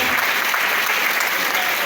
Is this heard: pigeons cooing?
no